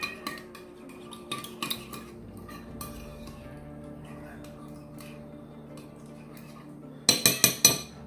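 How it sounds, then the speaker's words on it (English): A metal spoon clinks against a bowl of red pepper flakes and diced scallions, with scattered light taps and then a quick burst of five rapid, bright clinks at the end. "Grab a spoon real fast and get that stirred up."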